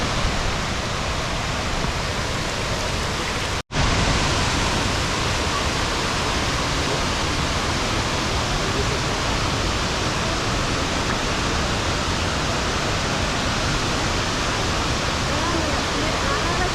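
A Bosnian waterfall roars as a loud, constant wash of falling water, unbroken except for one brief cut partway through.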